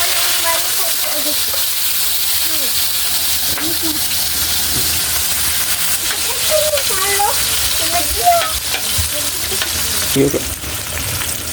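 Chopped tomatoes go into a hot pan and fry with dried fish for kinamatisang tuyo, a steady broadband sizzle running throughout with occasional stirring scrapes and a voice speaking briefly over the cooking.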